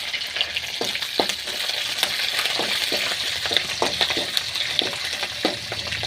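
Curry leaves and green chilies crackle and sizzle in hot oil for upma, a steady loud frying hiss broken by sharp pops and the scrape of stirring, with no voices.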